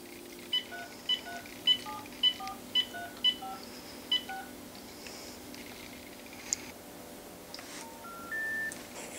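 A phone keypad sends a quick series of about eight evenly spaced dialing beeps at close range, followed by a quieter pause and a short, steady electronic tone at the end, with no talking.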